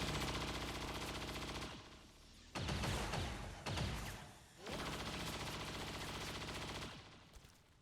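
Suppressive fire at a turret in the video game XCOM 2: loud sustained automatic gunfire bursts separated by short gaps, layered over a steady game music bed.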